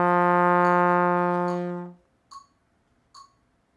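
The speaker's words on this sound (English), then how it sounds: "the dotted rhythms, would sound like this." A trombone plays a long, steady sustained note lasting about two seconds before fading out, then two short, separate notes follow after pauses, standing alone without talk.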